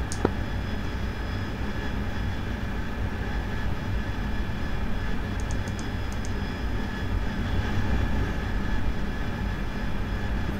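A steady, dense jet-engine drone from an AV-8B Harrier in a flight simulation game runs continuously at moderate level, with a brief click at the start and no speech.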